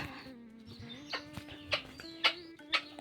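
A chicken clucks in short, sharp bursts that grow louder toward the end, over a low steady hum.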